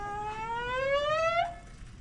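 A steady mechanical whine climbs slowly in pitch for over a second, then cuts off, as air moves through the fuel system of a 2020 Ford F-250 6.7 Powerstroke with ignition on and pumps running.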